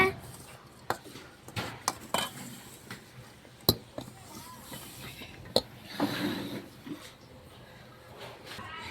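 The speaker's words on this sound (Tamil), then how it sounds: "ஆட் பண்ணி நல்லா மிக்ஸ் பண்ணிக்கலாம். மிக்ஸ் பண்ணிட்டே இருங்க." A spoon scrapes and knocks against a bowl while jaggery sugar is stirred into a mixture, giving irregular sharp taps and clacks close by over quiet background noise.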